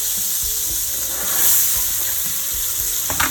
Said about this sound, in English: Okay, let's put in the onions.